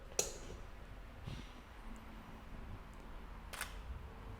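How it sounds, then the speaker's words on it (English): Two crisp shutter clicks from a Sony A6300 camera fitted with a Neewer battery-powered studio flash, separated by a few seconds, close by in a quiet room with faint handling noise between them. "I'm gonna just hit the shutter button"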